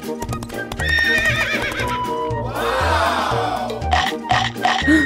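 A horse whinnies in a long, wavering neigh amid rhythmic clip-clopping hooves and grunting, all in a children's game center play setting, fairly close and loud.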